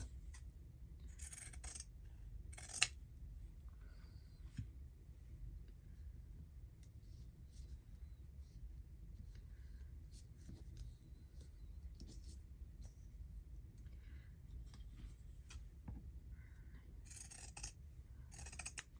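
Quiet snips of scissors cutting fabric come in short clusters, a few crisp cuts near the start and end over a low steady hum.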